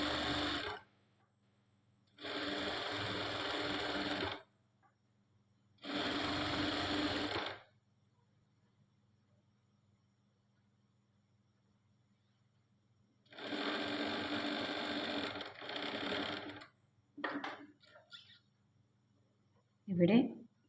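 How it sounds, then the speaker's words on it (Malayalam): An electric sewing machine running a straight stitch line along fabric in a stitching class, heard in several steady whirring bursts of one to two seconds separated by pauses, close and clear, with a few short stop-start runs near the end. "ആ ലൈനിൽ തന്നെ സ്റ്റിച്ചിങ് ചെയ്തുകൊണ്ട് വരാൻ പറ്റും"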